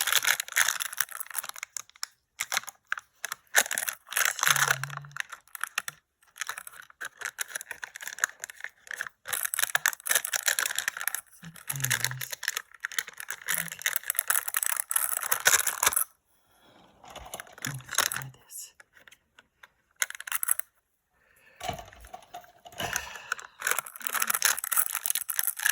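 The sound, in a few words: peeling tape off an object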